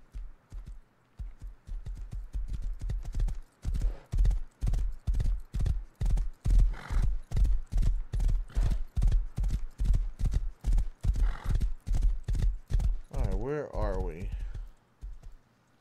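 A horse in the Rust survival game walks along at a steady pace, its hooves clip-clopping in an even rhythm for the whole stretch, close and clear, with a brief whinny near the end.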